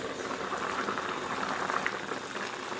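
Pork belly in a covered pot with water, salt, star anise, cinnamon, bay leaves, angelica root, tsaoko and nutmeg stews over low heat, giving a soft, steady bubbling simmer, faint and continuous.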